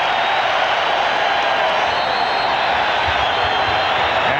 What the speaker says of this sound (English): And this crowd exploding.